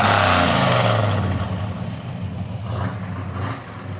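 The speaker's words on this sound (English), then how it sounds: "Great sound dual exhaust." A well-built 1971 Chevy Nova with a built small-block Chevy V8, four-speed manual and dual exhaust, its deep engine rumble close and steady, loudest at first and easing slightly as it idles on.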